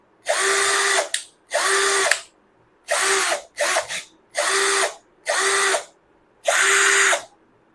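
An Enon cordless drill runs in forward in seven short whirring bursts with brief silent gaps between them, close and clear, with no voices.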